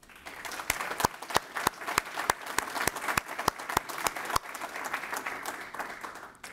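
An audience at a university faculty award ceremony claps in a steady burst of applause, sharp individual claps standing out over a dense patter, lasting several seconds.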